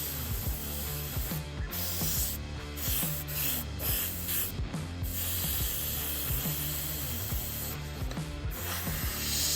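An Iwata Eclipse HP-CS airbrush sprays lure paint in a steady close hiss, broken by brief gaps where the trigger is released, with music playing underneath.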